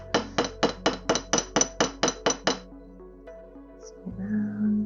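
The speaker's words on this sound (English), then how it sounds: "hopefully I'll edit out the hammering enough so it doesn't startle all your folks that might be wearing headphones." Wire for a wire-wrapped pendant struck with a hammer, about a dozen sharp, ringing metallic blows at a steady quick rhythm, close and loud, followed by quieter handling and a low rumble.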